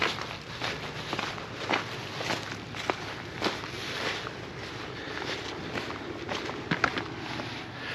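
Footsteps crunch steadily along a semi-marked creek trail behind campsites on the Long Leaf Loop at Pine Mountain, a regular walking rhythm with sharper steps over a constant outdoor background and no talk.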